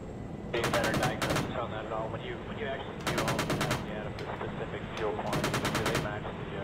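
Repeated bursts of rapid automatic cannon fire from an Apache helicopter engaging an MRAP in a military video game, three long strafing volleys with short gaps, loud and close, with faint background voices between bursts.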